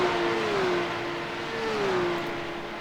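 Porsche Cup race car engine in iRacing accelerating out of a hairpin at Montreal, a steady loud whine rising and falling in pitch as the revs climb, with no talk over it.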